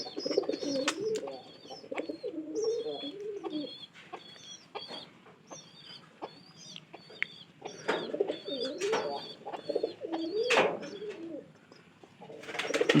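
Baby pigeons coo and squeak while feeding together, repeated soft nasal calls in short bursts with brief gaps, close and fairly quiet.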